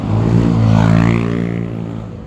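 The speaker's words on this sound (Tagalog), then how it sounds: "Ito yung aming mga service na motor." A motorcycle engine idling and revving on a road trip stop-over in San Fernando, Pampanga, loud and close, rising briefly and then easing off.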